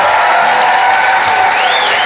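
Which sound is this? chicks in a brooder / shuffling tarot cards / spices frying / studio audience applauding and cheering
studio audience applauding and cheering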